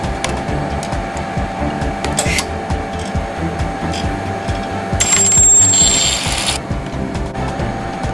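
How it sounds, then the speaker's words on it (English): An automatic ElmaTech Midispot AV spot welding machine welds sheets of different steel grades, giving a steady mechanical whir with repeated clicks and a brief louder buzzing burst partway through. "Weld several sheets of different steel grades."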